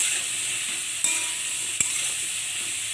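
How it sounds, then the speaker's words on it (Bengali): Taro stolons fry in a pan with turmeric and spices, giving an even close sizzling hiss with two brief utensil knocks and no talking. "লতিগুলো একটু ভাজা ভাজা করে"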